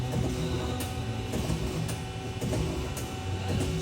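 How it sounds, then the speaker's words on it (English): Hurco TM-6 CNC lathe turning center from 2005 running its tool changer, a steady mechanical whirring with soft rhythmic clicks and thumps, heard close and alone. "I'll run the tool changer."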